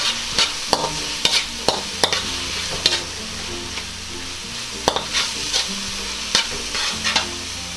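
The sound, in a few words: ingredients frying and being stirred on a stove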